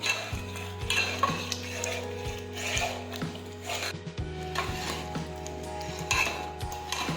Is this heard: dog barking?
no